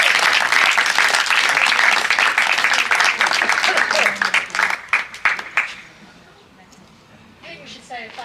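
Loud, dense applause from a gathering at an anniversary awards evening, thinning into scattered claps and fading to near quiet, with some voices in the background.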